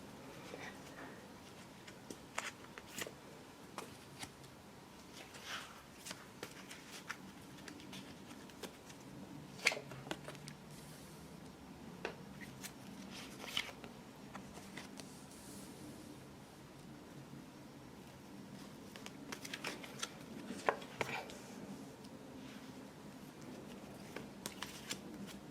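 Tarot cards are shuffled and laid out softly and close by, with repeated faint riffles, slaps and snaps spread irregularly over a quiet room.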